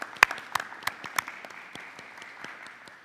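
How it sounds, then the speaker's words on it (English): A few people clap at a school board meeting, with scattered, uneven claps that start out sharp and thin to a faint patter. "I would suggest a round of applause for our principals"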